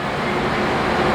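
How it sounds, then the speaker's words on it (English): Inside a Metra commuter train, a loud, steady low rumble and roar of the moving car, continuous and close, with no voices. "That was the loudest freaking train I have ever been on."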